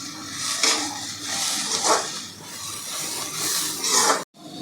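Momo filling being stirred in a pan, repeated scraping and clattering strokes in a loose rhythm over a soft sizzle, close by, ending in a sudden cut to silence.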